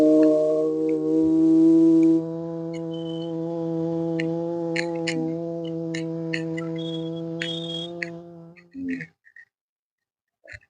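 A group chants Om together at the start of a yoga session, a steady sustained hum held for about nine seconds before it trails off, followed by a few brief faint noises.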